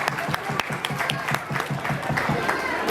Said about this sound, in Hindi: एक बार सभी लोग अपने अपने जूस का गिलास साइड में रख के जोरदार तालियां